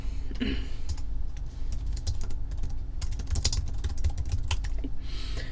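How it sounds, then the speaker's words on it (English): Rapid, uneven keystrokes on a computer keyboard clatter close by in quick bursts with short pauses, over a low steady room hum, with no talking. "what I'm going to do is type this over here"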